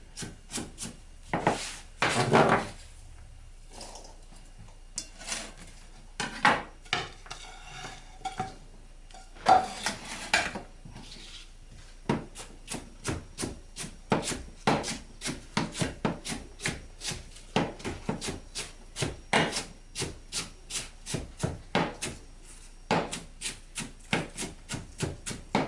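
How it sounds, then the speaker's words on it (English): Apple wedges being chopped into smaller pieces on a board, producing a long run of sharp, close knife strikes in irregular bursts, each chop a crisp thud with wood contact, no voices. "half of the apples, I'm going to cut them, chop it up"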